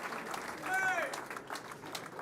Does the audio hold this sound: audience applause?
yes